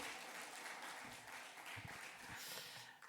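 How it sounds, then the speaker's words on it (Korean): A church congregation applauds a young scripture reader as she steps down, a soft, steady patter of hand clapping filling the room at moderate distance for about three seconds. "우리 윤이 내려갈 때까지 박수해 주시면 감사하겠습니다"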